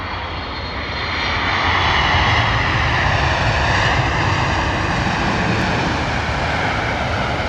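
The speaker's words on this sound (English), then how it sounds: "British Airways 777 coming in." A British Airways Boeing 777 on approach at London Heathrow, its jet engines a loud, steady broadband roar that swells after the first second and holds close and strong with no talking.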